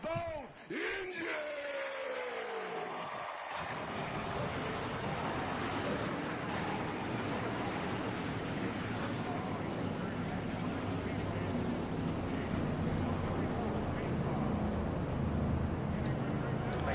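Several race truck engines fire up at the Chili Bowl Racetrack, a dense, loud, sustained rumble of motors that builds after a brief announcer voice and holds steady, filling the arena.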